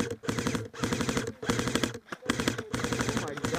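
Rapid automatic gunfire from a video game, loud and close, firing in sustained bursts with brief pauses between them, no talking over it.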